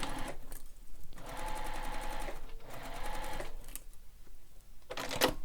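Sewing machine stitching a backpack seam in two running bursts of rapid, even clatter, with short pauses and a clunk near the end, close and fairly quiet.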